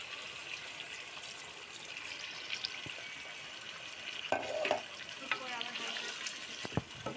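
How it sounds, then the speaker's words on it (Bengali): A cup of water added to a sizzling chicken biryani pot, giving a frying hiss with stirring scrapes and clinks, a few louder bursts midway, and faint talk in the background. "এরপর যে আমরা এক কাপ পরিমাণে পানি দিয়ে দেবো"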